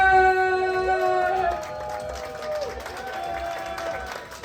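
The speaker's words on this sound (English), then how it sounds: "People cheering and everything." A comedy theater crowd claps and cheers for a host walking onstage, a moderate steady wash of applause under bright sustained music tones that fade midway.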